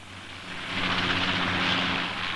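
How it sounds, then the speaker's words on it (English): Helicopter flying at the 1966 Farnborough air show, a steady engine drone with a low tonal hum that swells slightly louder midway and holds, heard alone at a moderate distance. "helicopters are used in more leisurely, comfortable fashion to bring important visitors to the show"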